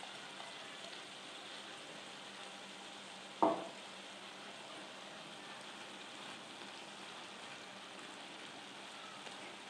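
Prawns fry with taro stems in a pan, giving a soft, even sizzle that stays faint throughout, broken once by a single sharp clack of a utensil.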